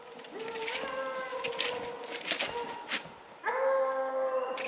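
A hunting dog baying at night during a raccoon hunt in Louisiana, drawn-out howling barks in a few long bursts, the last one louder and closer, with faint voices in the background.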